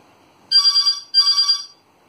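A telephone rings in two loud, close electronic bursts with a short gap between them, alone against silence.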